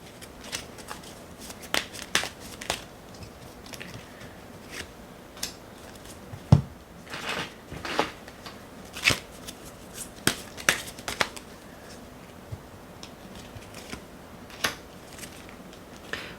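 Tarot cards are shuffled by hand before the advice card is drawn, with soft, close, irregular flicks and snaps of cards in quiet surroundings and no talking.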